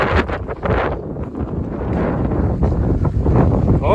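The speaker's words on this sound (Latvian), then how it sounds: "Oh, look at that wind!" Strong wind gusts across a Latvian seashore, loud and blustery, buffeting the microphone with heavy low rumble and shifting surges throughout.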